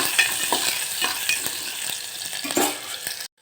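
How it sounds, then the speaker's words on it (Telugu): Onion, tomato, green chili and moong dal frying with mustard seeds in a pan, a loud close sizzle broken by repeated scraping stirs of a spatula over a few seconds, then cutting off abruptly. "ఆనియన్ టమాటో పచ్చిమిర్చి అన్నీ అయితే వేసుకొని ఒకసారి ఇలా ఫ్రై చేసుకోవచ్చు"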